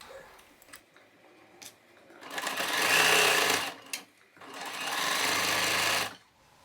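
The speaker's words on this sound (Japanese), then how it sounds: "袖口を縫おう。" A sewing machine stitches the cuff of a gauze jacket sleeve in two sustained runs of about a second and a half and two seconds, with quiet handling sounds and pauses before, between and after.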